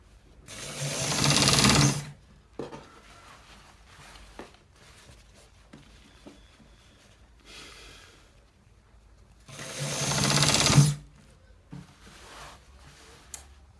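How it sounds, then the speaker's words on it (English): A sewing machine stitching through a designer shirt collar, two loud sustained runs of rapid whirring stitches separated by quiet gaps with small handling clicks. "So guys, we are stitching it through"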